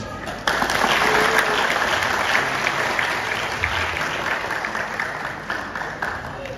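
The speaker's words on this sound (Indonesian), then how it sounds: "Kita beri aplaus." A hall audience at a Nahdlatul Ulama centenary anniversary celebration breaks into sustained applause, loud dense clapping that starts abruptly and holds steady, slowly easing toward the end.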